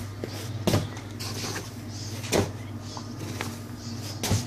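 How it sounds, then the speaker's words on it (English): A normal glass door on a deep freezer being swung open, giving a few sharp knocks and rattles over a steady low compressor hum, close by with no talk. "Right, just a normal glass door. I'm just gonna swing it open"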